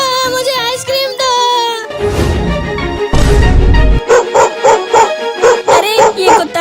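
A cartoon dog in a Hindi children's animation barks, yips and whimpers loudly in a rapid series of high, excited calls.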